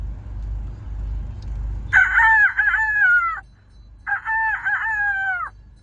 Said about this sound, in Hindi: सुबह सुबह मुर्गे की आवाज सुन करके उठता है